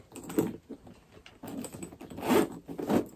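A hefty bag zipper pull is drawn several times in quick rasping strokes, close up, with brief pauses between pulls.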